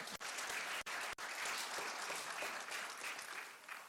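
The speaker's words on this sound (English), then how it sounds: "I would like the audience to give you an applause for your very nice comments." Conference audience applauding after a panel speaker's comments, steady dense clapping filling the room for several seconds with no voices over it.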